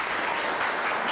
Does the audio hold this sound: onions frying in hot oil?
no